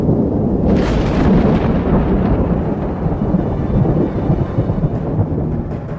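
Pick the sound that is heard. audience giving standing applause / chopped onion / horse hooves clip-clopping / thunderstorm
thunderstorm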